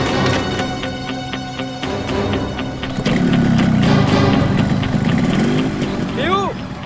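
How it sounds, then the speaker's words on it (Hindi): A motorcycle engine starts up and settles into a steady, loud rumbling idle nearby, with people talking over it. "बाइक स्टार्ट हो गई, जल्दी आओ।"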